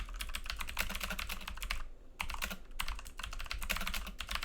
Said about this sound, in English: Maybe I can type it so that you can see it down here.